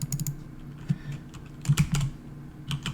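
Close, quiet keystrokes tap out on a computer keyboard in quick irregular bursts, with a few louder clacks mid-run and no talking.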